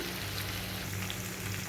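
Kakrol paturi cooking in a pan over a low gas flame gives a steady, soft, even sizzle with a low hum underneath and no talking.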